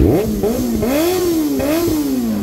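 A motorcycle engine revs hard in repeated rising and falling bursts, loud and close, with no one speaking.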